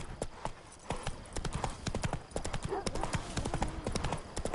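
Roach, the horse in The Witcher 3, trots with crisp, rapid clip-clopping hooves in a close, steady rhythm that carries on throughout.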